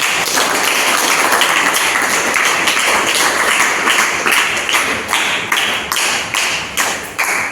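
Audience applause at a student training event on the importance of education, dense loud clapping from a close crowd that stays steady and then breaks into more distinct claps toward the end.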